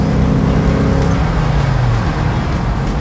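A 1975 Triumph Stag's V8 growls loud and close while the car is driven, its deep engine note rising and then settling into a steady rumble.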